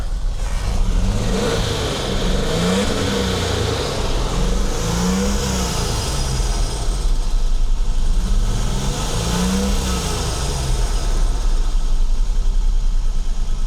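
A Mercedes-Benz W126 280SEL engine runs steadily close by after a fuel distributor repair, a low rumbling idle with several rising and falling revs, no voices over it.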